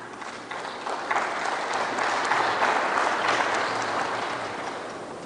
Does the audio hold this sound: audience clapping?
yes